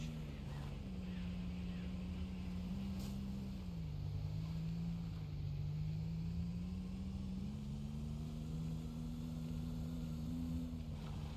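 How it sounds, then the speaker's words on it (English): A steady, droning engine hum holds a low pitch that wavers slightly up and down, running continuously with faint background noise. "it's the game's car engine"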